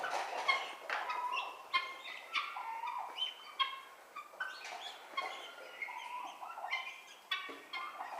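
Repeated turkey calls, gobbling bursts and chirps at close range, several overlapping with no speech, irregular rhythm over a steady background hiss.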